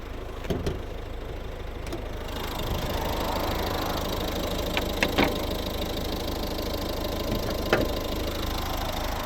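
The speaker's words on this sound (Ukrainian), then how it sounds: "Ось цей знаменитий двигун, навіть тут нічого не милось і не потрібно" A 2011 Mazda 5 with a 1.6 D2 diesel engine idles under the open hood, a steady close rumble with faint rhythmic clatter and a few sharp clicks, without speech.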